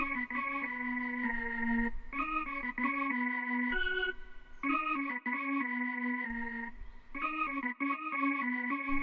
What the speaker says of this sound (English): this one I got this organ out of 40's very own keys